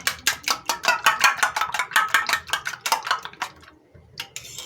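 A single egg is beaten quickly by hand in a bowl, a fast run of light clinking taps that keeps a steady rhythm, pauses briefly and then resumes with a few more strokes close by.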